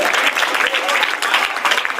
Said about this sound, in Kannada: ಜೋರ ಚಪ್ಪಾಳೆ ಮೂಲಕ